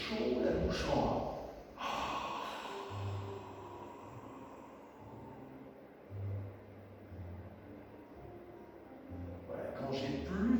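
A slow exhale of warm breath through a wide-open mouth during a back gym exercise, with breathy bursts near the start and end and quieter steady airflow in between.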